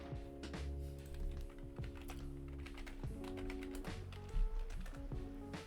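Rapid typing on a computer keyboard, close and clear clicking in quick irregular bursts over a faint background of in-game music.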